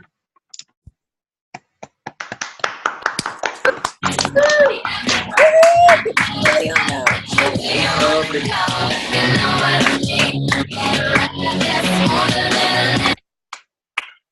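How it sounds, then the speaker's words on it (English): A small group claps for Liliana during a Rapid Results Challenge session, with scattered claps building into about nine seconds of steady, close clapping, a few voices mixed in, then stopping abruptly. "I want to give a round of applause to Liliana."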